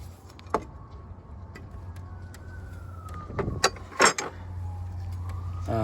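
A car's belt tensioner is levered counterclockwise and the drive belt slides off its pulleys: close mechanical creaks and clicks, a sharp tick early on, then a brief cluster of scraping clunks near the end over a steady low hum.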